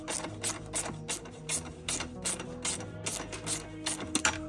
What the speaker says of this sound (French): Tu viens dévisser l'écrou, là.